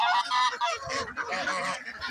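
Geese on a farm honk loudly and repeatedly in an overlapping, excited chorus close by, with no talk over them.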